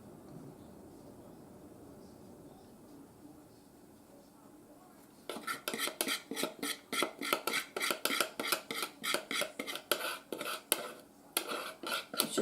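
Metal utensil scraping the bottom of a baking dish holding a creamy cheesy fish bake over broccoli, a run of quick rhythmic scrapes after a quiet stretch, close and moderately loud.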